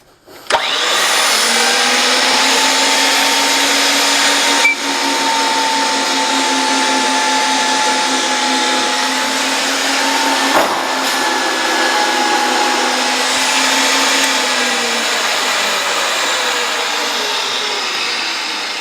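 Electric pipe threader cutting threads onto 2 inch gas pipe, a steady loud motor whine with grinding die noise running continuously for the whole stretch, nearby and alone with no talk.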